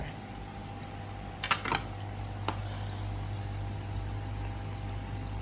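Water from an XP-09 aquarium filter pours steadily into a home fish tank, a faint continuous trickle with a low hum, broken by a few brief louder splashes or clicks.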